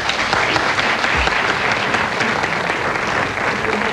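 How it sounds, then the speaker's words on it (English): Studio audience applause on a televised quiz show, a steady even burst of many hands clapping at full volume from start to end with no pause. "A big round of applause for them both, please."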